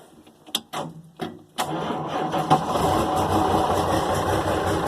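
An Allis Chalmers wheel loader engine runs steadily after a few sharp clanks and knocks, settling into a continuous mid-level mechanical drone with no talking.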